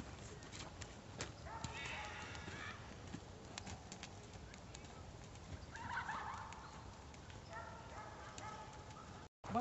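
Horse hooves clip-clop during a riding lesson at an equestrian centre, soft, irregular thuds from a part-thoroughbred horse under continuous talking, with a faint outdoor background.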